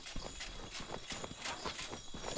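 Horse hooves clip-clopping in the video game Mortal Online 2, a steady run of crisp, evenly spaced hoof strikes, close and fairly quiet, with no talk.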